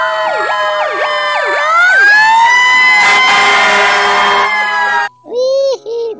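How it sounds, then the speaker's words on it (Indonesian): A toy fire truck's electronic siren wails loudly up close, sweeping through rising and falling tones before cutting off, followed by brief talking. "ternyata ini mobil pemadam kebakaran."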